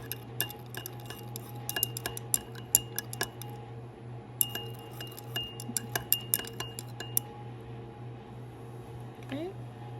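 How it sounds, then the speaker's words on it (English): A spoon clinks against a glass while milk is stirred into lemon juice, a quick series of light metallic taps in two bursts over a steady low hum, with a voice briefly speaking near the end. "And we'll stir."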